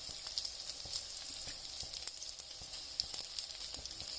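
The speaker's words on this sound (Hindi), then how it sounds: "इसमें हम इसको हल्का सा फ्राई कर लेंगे" Methi muthiya, fenugreek and flour dumplings, frying lightly in oil with mustard seeds, giving a steady soft sizzle with faint crackles and pops, close and quiet, with no talking.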